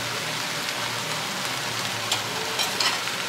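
Sausage and vegetables for corn chowder heat in a covered pot, giving a steady, even sizzle and hiss like soft rain, with a few faint pops near the end and no talking.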